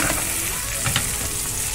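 Sauce is spooned over a ribeye steak in a hot pan, producing a dense, close, continuous sizzle with a soft spattering crackle.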